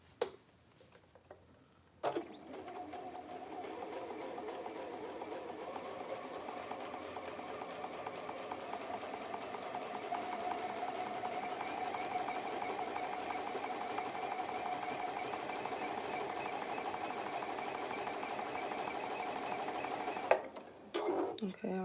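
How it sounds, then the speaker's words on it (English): A home sewing machine stitches over a seam in fabric, humming steadily and evenly at close range for most of the stretch, with brief handling noises at the start and end. "And now I have to stitch it over because I forgot to change it."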